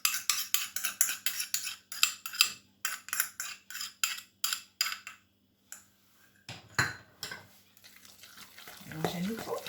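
A fork is stirred briskly through a ketchup mixture in a bowl, giving a near, rhythmic series of quick scraping clinks that stop for a moment, with a few sparse clinks and some soft handling noise toward the end.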